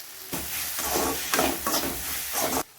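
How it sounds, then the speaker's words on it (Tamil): Stirring curry leaves, coriander and cashews into a sizzling cauliflower butter masala in a pan, with steady scraping strokes over continuous frying hiss, close and fairly loud, no talk. "கருவேப்பிலை, கொத்தமல்லி ரெண்டுத்தையும் ஆட் பண்ணி நல்லா மிக்ஸ் பண்ணிக்கோங்க"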